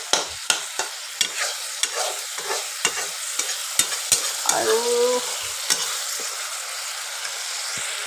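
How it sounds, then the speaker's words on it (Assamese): Onion paste frying in a pan while being stirred, with a steady sizzle and sharp repeated scraping taps of the spoon against the pan, close and loud, and a brief voice in the middle. "এয়া মই ভাজি থৈ পেষ্ট কৰি থৈ দিয়া পিঁয়াজখিনি অকণমান ৰঙচুৱা হোৱালৈকে অকণমান ভাজি ল'ব লাগিব"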